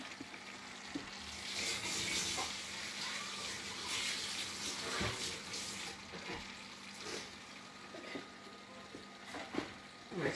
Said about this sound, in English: I'm just going to wash it very quickly.